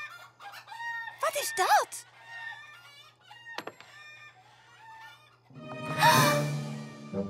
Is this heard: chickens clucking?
yes